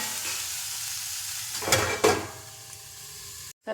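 Curry simmering in a little oil on a low flame makes a steady soft sizzle, with a couple of louder stirring scrapes in the middle before the sound cuts off abruptly near the end.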